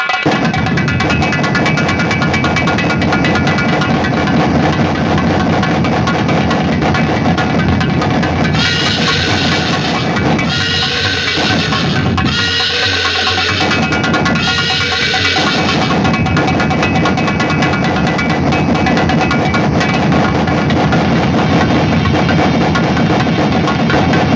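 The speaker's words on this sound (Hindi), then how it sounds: "स्कूटर, अब स्कूटर।" A scooter engine runs steadily, a loud continuous throbbing hum with a rougher, busier stretch in the middle, heard alone without talk.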